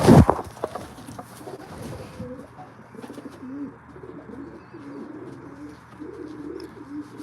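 Racing pigeons coo steadily in an aviary, a layered chorus of low, rolling calls repeating through the whole stretch after a brief loud knock at the start, with no one talking.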